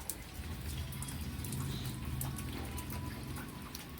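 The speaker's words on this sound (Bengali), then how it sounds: "হাওয়া বৃষ্টি দুটোই চলছে" Morning rain falls with wind, a soft, steady wash of patter and drips with a low rushing undertone, fairly faint and distant, no talking.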